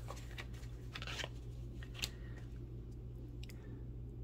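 Tarot cards are shuffled by hand in a series of soft, brisk riffles and crisp snaps, close and fairly quiet over a low steady hum.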